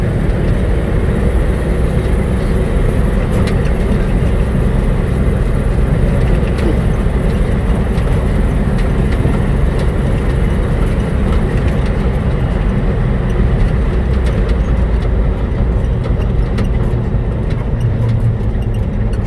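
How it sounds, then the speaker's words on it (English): A 1969 Chevrolet fire truck rolls along in high gear, its engine and road noise forming a loud, steady rumbling drone with cabin rattles throughout, heard from inside the cab with no talk. "She definitely rides like a 60s fire truck."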